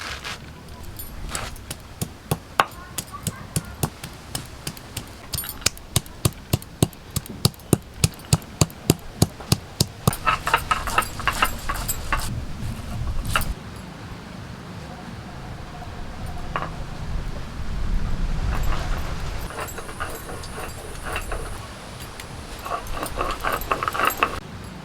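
Black mustard seeds, green chillies and ginger ground on a stone slab, heard as a run of sharp rhythmic knocks and scrapes, dense in the first half and then easing into softer rubbing and grinding, close by.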